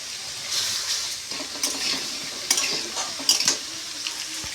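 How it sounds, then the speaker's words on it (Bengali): Plain potatoes without salt or turmeric fry in a pan, a soft steady sizzle broken by several sharp scrapes and clinks as a utensil stirs them against the metal, with no voices. "এই যে এটা একটু ভাজা ভাজা হোক।"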